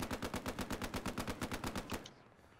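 Rapid automatic gunfire from a Hell Let Loose battle, a steady run of about twenty evenly spaced loud bursts lasting two seconds before cutting off to a quieter background.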